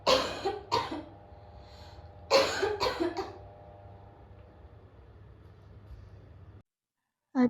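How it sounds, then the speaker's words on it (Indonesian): An elderly woman coughs in several harsh bursts, two clusters separated by a quiet pause, close and clear over a low steady background hum. "kasihan lihat ibu batuknya dari kemarin gak sembuh-sembuh"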